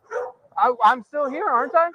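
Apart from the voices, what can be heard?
dogs barking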